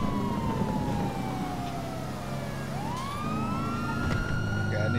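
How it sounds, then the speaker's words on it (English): Police car sirens wail in Grand Theft Auto 5, several overlapping sweeping tones rising and falling over traffic rumble, fairly loud and continuous. "Why is there so many police down here?"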